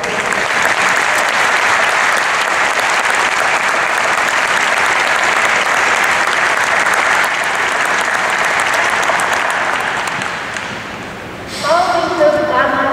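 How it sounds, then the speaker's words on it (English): An audience at a physical therapy graduation hooding ceremony gives a long, loud, steady round of applause for the graduates, which fades near the end before a voice begins speaking. "please give them a round of applause for their."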